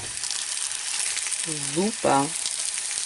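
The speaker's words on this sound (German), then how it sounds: "so werden wir jetzt alle Teigtaschen nacheinander anbraten" Mushroom-filled dumplings fry in a pan with a steady, loud hiss and crackle throughout, while a voice briefly speaks over the sizzle.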